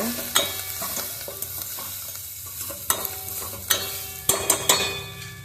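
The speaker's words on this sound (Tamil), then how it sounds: "இந்த தட்டினதெல்லாம் வந்து கொஞ்சம் அப்படியே எண்ணெயில் லைட்டாக வணங்கட்டுங்க" Crushed spices sautéing lightly in oil, giving a soft continuous sizzle punctuated by several sharp clinks and scrapes of a spoon against the pan, close by and without talk.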